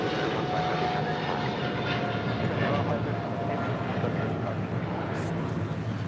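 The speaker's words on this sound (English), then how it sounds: "That was Japan Airlines Flight 15, 777 in the One World livery, get off to Tokyo Haneda" A Japan Airlines Boeing 777 in oneworld livery departing LAX for Tokyo Haneda, its jet engines a steady, moderately distant roar running the whole time, with faint chatter underneath.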